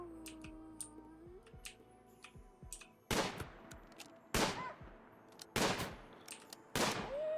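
Gunshots ring out in the colony-building video game RimWorld, four loud sharp bangs spaced about a second apart, following lighter game clicks and tones at the start.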